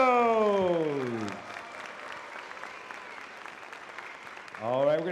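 Applause from a pops concert audience fills the middle stretch, moderately loud and sustained, with a spoken voice at the start and again at the end.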